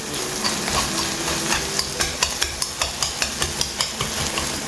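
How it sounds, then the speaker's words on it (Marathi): Onion being stirred into scrambled eggs in a hot pan for quick egg fried rice, with a steady sizzle and a run of regular scraping spatula strokes that grow sharper toward the end, close and alone. "आतां मातशें रावन न्ही एका हे ऑनियन जायचे तेजे बरोबर बरें मिक्स करून घेता."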